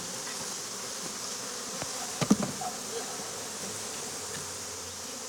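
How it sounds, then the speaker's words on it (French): A dense swarm of honeybees buzzes in a continuous hum, with a few nearby clicks and bumps partway through; no speech. The bees are swarming. "Quand les abeilles essaiment, elles se gorgent de miel."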